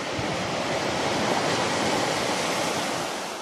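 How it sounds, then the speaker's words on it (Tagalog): Sea waves wash onto the shore as one steady, broad rush of surf, close and loud, swelling slightly in the middle and easing off at the end, with no voices. "napakinggan nyo yung dagat, di ba?"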